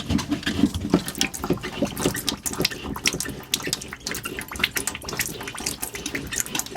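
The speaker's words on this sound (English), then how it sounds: "If you look down here, this is our foot pump for fresh water." Fresh water pumped by a foot pump into the galley sink of a Westsail 32 sailboat, a rapid splashing trickle with pulsing bursts, close and continuous, no talk.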